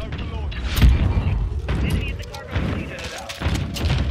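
Grenade blast during a shoothouse match in a first-person shooter, heard amid rattling gunfire and mechanical clatter, with several heavy bursts spread across the moment and a voice talking over the action.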